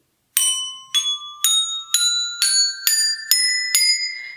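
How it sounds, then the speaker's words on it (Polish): Colored tuned bells are struck one after another in a rising scale, eight clear ringing metallic notes at an even pace, each decaying briefly before the next, with nothing else heard. "z jednej strony mamy kolorowe dzwonki, one tutaj mają taką ściągę, jak należy je po kolei ułożyć"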